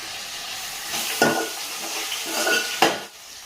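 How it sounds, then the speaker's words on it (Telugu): Tomato curry frying in a pan, with a soft sizzle and two sharp utensil scrapes or clanks against the pan, heard close with no talking. "ఇది కూడా మంచిగా ఫ్రై అయిన తర్వాత ఇక తోటకూర అయితే వేసుకోవాలి."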